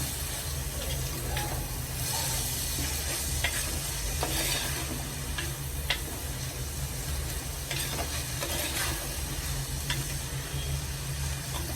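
Dried anchovies frying in a pan for a Kerala-style thoran, a steady close sizzle with occasional stirring scrapes and clicks running continuously at an even level, no talking.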